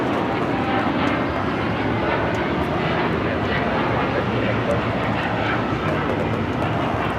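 A Japan Airlines Boeing 787-9 Dreamliner takes off at Los Angeles airport, its engines a steady, broad roar that holds at moderate loudness the whole time, with no talk over it.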